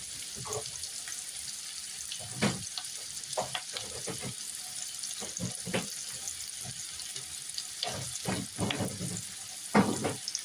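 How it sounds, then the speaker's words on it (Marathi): Chopped onion sautéing in a pan for pav bhaji gives a steady soft sizzle, broken by repeated scraping and stirring knocks and a few louder clatters near the end. "थोडासा कांदा ॲड करायचा ह्याच्यात, मस्त असा. तर याला छान थोडंसं परतून घेऊयात."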